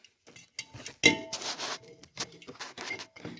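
Metal drink cans are set into a small homemade fridge, giving a run of light clinks, taps and knocks at an irregular pace, faint and close, with no voices.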